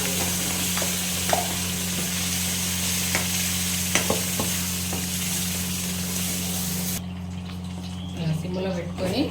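Tempering spices with dried red chillies and curry leaves sizzle in hot oil for peanut chutney. The frying hiss is continuous and close, with scattered scraping stirs and a steady low hum underneath.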